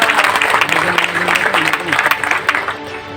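Audience applause at a success seminar, a dense wash of clapping from many hands that stays steady and fairly loud for a few seconds before easing slightly at the end, with no voices over it.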